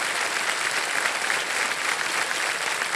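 Steady studio audience applause on the set of the Indian quiz show Kaun Banega Crorepati, a dense, even wash of many hands clapping that holds at a constant level from start to finish with no talking.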